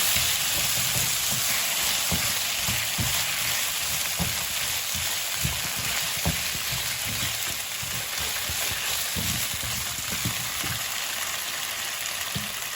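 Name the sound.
potatoes being stir-fried in a wok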